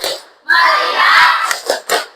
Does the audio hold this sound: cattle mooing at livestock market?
no